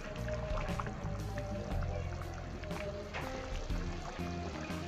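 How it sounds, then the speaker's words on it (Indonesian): Aceh-style boiled beef (sie reuboh) with red chili being stirred in a pot, giving a steady, close churning of liquid with soft sloshing and bubbling that continues without pause. "Kita aduk kembali."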